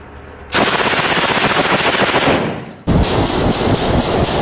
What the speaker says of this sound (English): this cheaply made stamped steel submachine gun has also seen wide service